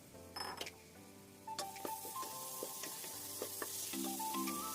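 Chopped onion sautéing in hot oil with curry leaves in a pan, a steady close sizzle with scattered clinks and scrapes of a utensil stirring, no voices.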